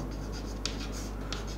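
A pen or chalk writes out a chemistry question during a Class 12 lesson, giving faint, soft scratching strokes with a couple of slightly sharper marks over a steady background hum.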